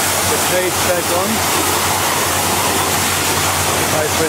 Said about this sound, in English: high pressure water treatment.